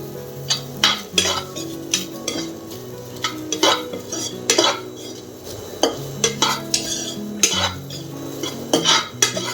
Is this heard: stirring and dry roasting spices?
yes